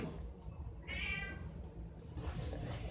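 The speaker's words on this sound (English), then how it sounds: "My cat is meowing like crazy." A house cat meowing insistently, one clear drawn-out meow rising out of quiet room noise, close to the microphone, with faint hiss before and after.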